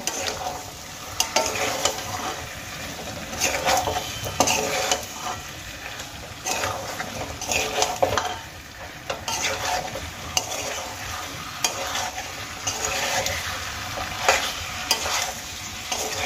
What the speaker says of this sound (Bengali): এবার আমি মশলার সঙ্গে আলু কিছুক্ষণ কষিয়ে নেব।